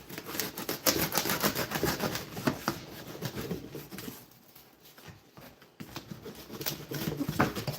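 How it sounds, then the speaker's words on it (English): Cardboard being cut away from around the outside of a box, a dense run of rapid scraping, snipping strokes close by with a brief quieter pause midway before the cutting resumes. "because we don't need all this excess cardboard around the outside of here, we will cut it off."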